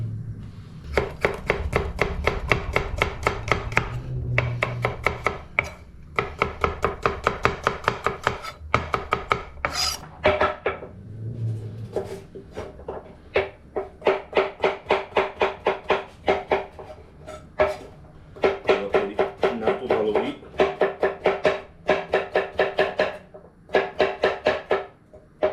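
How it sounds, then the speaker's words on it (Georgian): A knife chops carrot lengthwise on a cutting board, close and crisp, in fast repeated bursts of sharp strokes separated by short pauses, with no one speaking. "დავჭრათ სტაფილო გრძლად."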